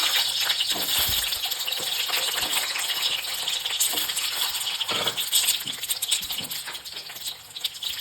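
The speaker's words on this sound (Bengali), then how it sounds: "এবার ডিমগুলোকে একটা একটা করে দিয়ে দিচ্ছি" Eggs fry in hot oil in a wok for an egg curry, a steady loud sizzle and crackle that keeps going without a break, with a few light clatters and no talk.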